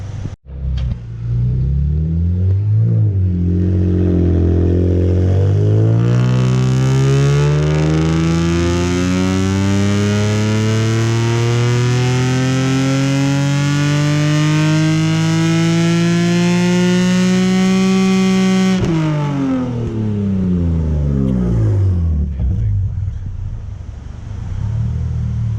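A Nissan 370Z Nismo with Z1 headers revs on a dyno, the engine note climbing steadily through a long wide-open pull for about twelve seconds, loud and close, then cutting sharply and winding down to idle.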